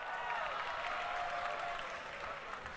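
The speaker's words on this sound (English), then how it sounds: "And the crowd can applaud." A crowd applauds at an esports grand final match, a steady wash of clapping that holds evenly for a few seconds before easing slightly.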